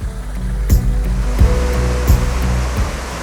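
Rushing stream water on Vancouver Island runs loud and steady, a broad close wash with recurring surges, and no voices are heard.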